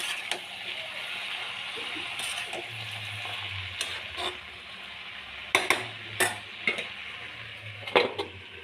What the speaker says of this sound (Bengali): শাক দিয়ে আবার চাপা দিয়ে দিয়ে নাড়বো।